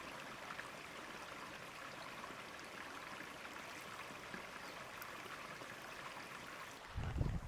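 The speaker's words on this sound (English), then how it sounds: "everybody say goodbye to the Babbling Brook" A small babbling brook flows outdoors, a soft, steady wash of trickling water that stays constant and fairly faint throughout, with a brief low rumble just before the end.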